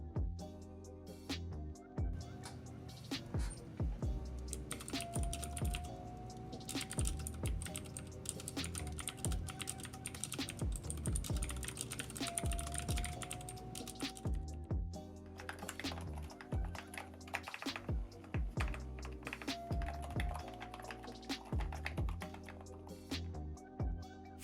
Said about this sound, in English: Here's an example of the loudest switch, clicky, compared to my own keyboard,